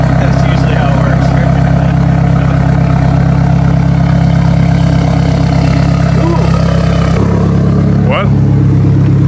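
An engine with an exhaust leak runs steadily up close, a loud continuous rumble with a fast ticking pulse throughout, and brief voices break in over it near the end.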